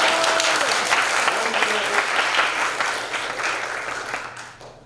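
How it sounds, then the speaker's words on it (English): A crowd applauds steadily for several seconds, dense clapping filling the room, then tapering off toward the end. "Everybody give Fee Dog a round of applause."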